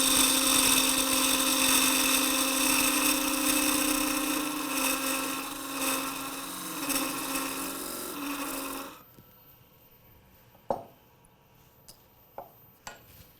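A wood lathe's parting tool cuts into a spinning blank for a gimbal clock, giving a steady, loud rasping scrape for about nine seconds before it stops, followed by a few soft knocks in near silence.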